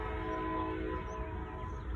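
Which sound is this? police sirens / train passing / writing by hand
train passing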